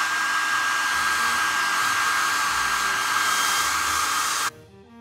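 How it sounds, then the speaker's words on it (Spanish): A hair dryer blows close and loud with a steady rushing whine, then cuts off abruptly near the end, leaving quiet. "No, solo con el secador."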